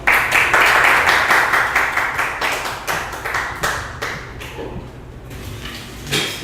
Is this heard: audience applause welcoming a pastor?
yes